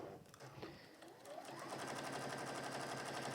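A sewing machine stitching a peg bag starts up and settles into a fast, steady mechanical whir, close and fairly quiet.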